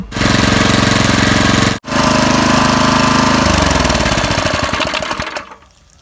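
Motorized pesticide sprayer running loud and close in an orchard, a steady rough engine drone with a brief dropout near the start, then fading out at the end.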